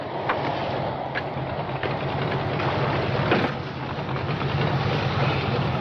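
A drag racing car engine runs as a continuous loud, rough roar, steady throughout with slight swells and no talk over it.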